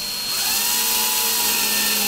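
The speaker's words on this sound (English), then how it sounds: "Always try to tighten the screws straight, so don't go left or right." A power tool drives screws into an IKEA FRIHETEN sofa bed during assembly, a steady close whirring drone that holds on without a break.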